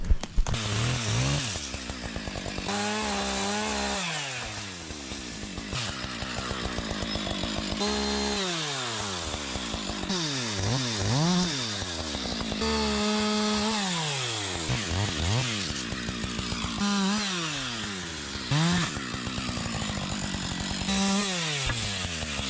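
A chainsaw bucks birch poles, its engine revving up and dropping back in repeated cycles as each cut bites and finishes, loud and close throughout with no talking.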